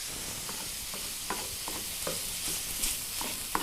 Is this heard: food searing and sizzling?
yes